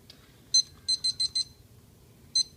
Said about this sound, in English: Here's my timer.